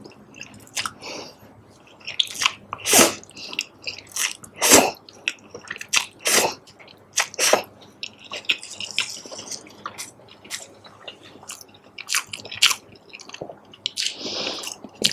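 Wet, squishy chewing of salted egg instant ramen noodles with fish skin flavouring and a hint of curry leaf, close to the mic, in irregular bites and slurpy squelches with no talking.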